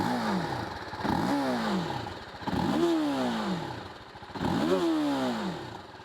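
A TVS Apache RTR 310 motorcycle's rattly exhaust note, revved repeatedly in three rising and falling pulls over a clattery idle, loud and close.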